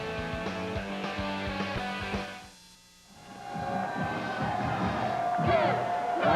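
Crowd at a Clemson Tigers home football game in Death Valley against Ball State, a big stadium roar with cheering and whoops as cheerleaders rally fans, swelling again after a brief lull, with a band playing underneath.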